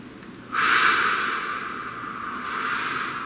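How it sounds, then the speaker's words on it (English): A single deep inhalation rushes in close to the microphone, a long breathy hiss that swells, eases, then rises slightly again toward the end, with no talking. "Please take a nice deep breath."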